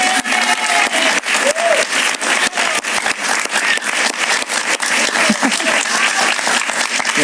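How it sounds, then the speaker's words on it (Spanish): A studio audience on a Spanish-language TV talk show claps in a brisk, continuous burst, loud and close, with individual hand claps clearly distinct in the dense rhythm. "Un aplauso para ella."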